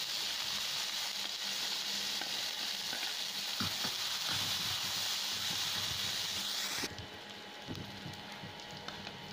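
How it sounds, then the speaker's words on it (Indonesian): Shallots sizzle steadily in hot oil while being sautéed for oseng kikil, a dense, close frying hiss with faint stirring taps. The sizzle drops sharply in loudness partway through. "next kita tumis pertama kali bawang merahnya"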